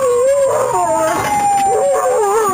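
A police dog howls in a long, loud, wavering howl that rises and falls over a couple of seconds, with a steady high-pitched whine running behind it.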